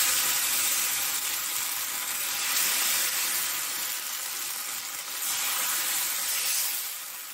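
Semolina chilla batter sizzling in hot refined oil in a pan, a bright steady hiss that swells and eases in waves, close and continuous with no talk.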